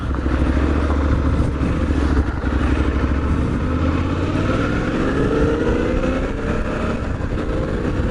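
A Suzuki V-Strom 800DE Dirt Edition motorcycle being ridden, its engine droning loud and steady with rising and falling rev tones, heavy wind buffeting and road rumble throughout, no talking.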